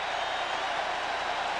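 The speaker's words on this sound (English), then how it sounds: "a mock cheer goes up from the crowd" Baseball stadium crowd at an NLCS playoff game between the Braves and Phillies lets out a broad, sustained mock cheer, a steady wash of massed voices and scattered clapping that holds evenly throughout.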